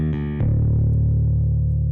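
Bass routed through a Decapitator saturation plugin set to a dark tone, with a sustained, warm low note that changes pitch once early, then holds steady and loud, thick and slightly gritty, with no other sounds.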